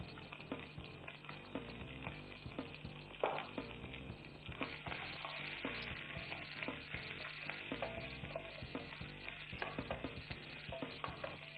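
Onions frying in a pan for chicken cashew kurma make a continuous soft sizzle, with irregular clicks and scraping from stirring mixed in, at a fairly faint level.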